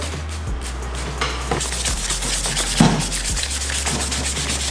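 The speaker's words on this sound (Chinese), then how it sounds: "我们用1200号的水砂纸去磨啊" Wet sanding of a yellowed scooter headlight (a 125 cc model) with 1200-grit waterproof sandpaper makes a close, continuous scratchy rubbing of steady back-and-forth strokes over a low background hum, with no talking.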